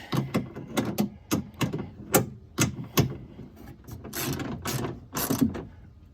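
Small bolts on a Fiat 500 Abarth window regulator tightened by hand with a ratchet, giving a close series of sharp clicking ratchet bursts in an uneven rhythm, with no talk.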